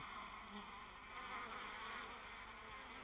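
Honeybees buzz on hive frames in a continuous, faint, dense hum with no pauses, heard without speech.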